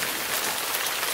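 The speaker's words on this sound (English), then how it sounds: "Okay, that's definitely rain." Rain falling in a steady, dense hiss of drops striking surfaces, close and fairly loud, continuous for just over a second with no voices.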